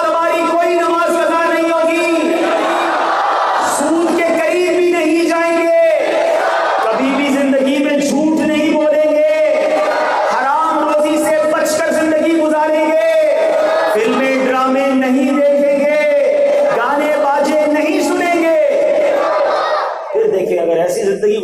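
Audience at an Urdu religious sermon chanting slogans in loud, rhythmic call-and-response waves that repeat steadily, a large crowd of voices filling the space.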